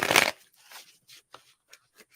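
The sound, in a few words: shuffling a deck of tarot cards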